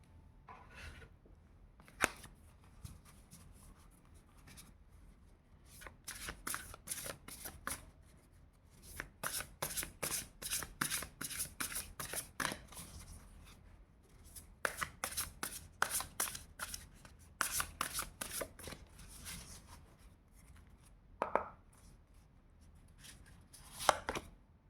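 Tarot cards shuffled in bursts of quick, crisp riffling clicks, with pauses between rounds, close and fairly loud with no talking.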